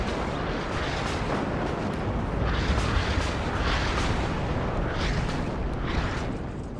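Artillery rumbles on a WARNO battlefield as a dense, continuous roar of overlapping booms and blasts, loud and steady for several seconds, with no voices.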